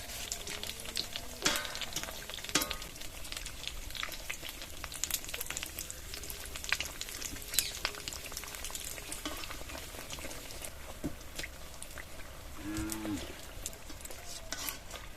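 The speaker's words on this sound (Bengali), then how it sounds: "প্রথমেই দুটো দুটো করে ভেজে নেব।" Leftover roti pieces fry two at a time in a pan, giving a steady close sizzle with scattered crackles and pops throughout, with no talking.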